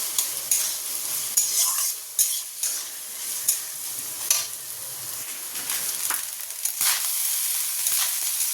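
Rice being stir-fried in a pan after salt and pepper go in, with a steady sizzle and repeated scraping strokes of the spoon close by throughout.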